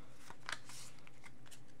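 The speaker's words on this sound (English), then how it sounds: "So, we got to shuffle them." Pokémon trading cards from a Steam Siege booster are shuffled by hand in a brief, quiet riffle with a soft crisp burst early on, close to the mic and without talk.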